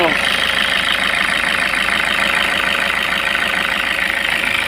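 A Toyota HiAce van engine runs steadily after a timing belt installation, a loud, continuous idle with a rough, fast pulsing texture and no pauses.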